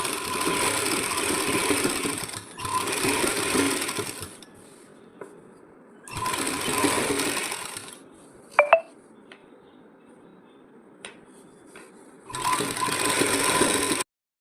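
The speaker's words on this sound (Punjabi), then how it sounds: "ਬਸ ਆਪਾਂ ਇਹਦੇ ਇੱਥੇ ਕਿਨਾਰੇ ਕਿਨਾਰੇ ਤੇ ਜਿਹੜੀ ਇੱਕ ਸਲਾਈ ਲਗਾ ਦੇਣੀ ਆ" Several bursts of a sewing machine stitching along the edge of a lined sleeve, running loud and steady for a few seconds at a time, with quiet handling and a couple of clicks between runs.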